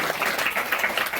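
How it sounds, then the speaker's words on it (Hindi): Audience applause from a school family gathering in Birnpur, a dense, steady wash of many hands clapping at close range for the whole short burst, with no voices standing out. "तालियां जवाब देनी चाहिए।"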